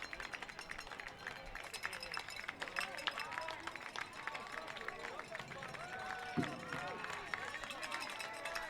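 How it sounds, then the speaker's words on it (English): Outdoor crowd applause and cheering for the Princeton Day School Panthers girls' soccer team after the NJISAA Prep B championship, steady clapping with scattered whistles and shouts throughout. "There are the Princeton Day School Panthers linking arms and getting a much-deserved round of applause from their faithful"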